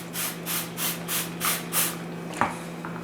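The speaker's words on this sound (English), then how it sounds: "I don't often just spray right on the computer like that" Five quick spray bursts of Microban cleaner hiss out in an even rhythm from a trigger bottle nearby onto an HP Vectra VL computer case, followed by a soft knock and quiet rubbing.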